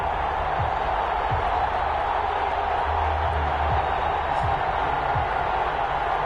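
Stadium crowd in an NFL video game, Dallas Cowboys vs New Orleans Saints, keeps up a steady, broad roar of cheering, loud and unbroken throughout, with a few dull thumps underneath.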